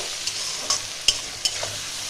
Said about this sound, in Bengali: এটা 3-4 মিনিট আমি ভেজে নিচ্ছি।